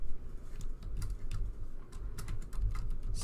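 Typing on a computer keyboard, a close run of uneven clicking keystrokes in quick irregular bursts, heard alone.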